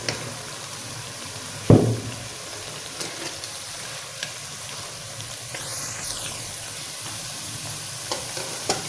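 Mutton pieces fry in hot oil in a pot for mutton curry, a loud splash and hiss as the meat drops in, then a low steady sizzle with scattered scraping stirs.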